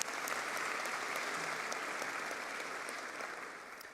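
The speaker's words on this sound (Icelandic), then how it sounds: "Og þá má klappa fyrir fatatækninni." A large audience applauds steadily at a Tækniskólinn graduation ceremony in Harpa, greeting the clothing technology graduates. The dense clapping stays loud and even throughout, easing only slightly toward the end.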